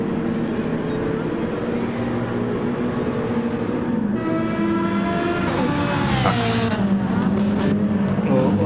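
A Porsche race car engine in a racing video game drones steadily at high revs, its harmonic whine shifting pitch as it climbs through gears near the end, loud and continuous with no talk.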